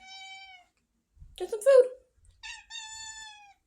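A cat meows in short drawn-out calls near a backyard chicken coop at feeding time, with a quiet voice speaking between the meows.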